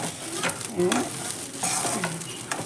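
Jeera rice being stir-fried in a pan, with a steady scraping stir and a soft sizzle running throughout, close and moderately loud, with no talk over it.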